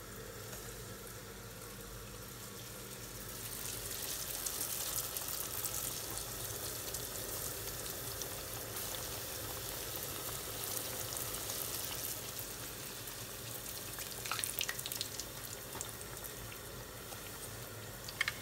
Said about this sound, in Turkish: muhteşem danıtlarımız gördüğünüz gibi sevgili takipçilerim artık pişiyor